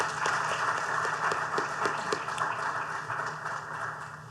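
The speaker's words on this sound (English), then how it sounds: "please give a round of applause for our outstanding educators in the room" An audience at a congressional briefing and policy forum for school principals applauds educators, a dense, steady wash of many hands clapping at once that holds for several seconds and eases slightly toward the end.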